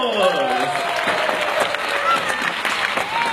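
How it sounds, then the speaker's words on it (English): Audience at the grand finale of a bird show bursts into loud, sustained applause with scattered cheers, dense clapping from a large crowd filling the whole stretch. "Let's give them a big round of applause."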